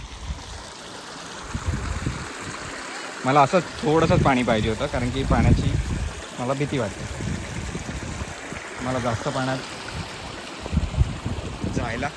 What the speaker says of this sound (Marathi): आपण आता नदीवरती आलो आहोत तर नदीला पाणी इकडे थोडं कमी आहे